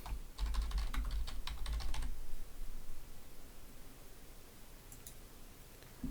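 Typing a file name on a computer keyboard: a quick burst of crisp key clicks in the first two seconds, then near silence with a couple of faint later taps.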